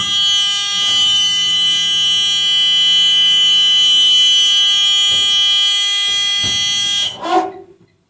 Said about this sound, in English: my emergency side door opens freely and the alarm sounds